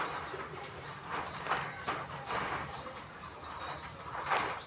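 A pigeon released into a cage coos softly and repeatedly over a low, busy background, with faint rustling and light sounds of movement around it.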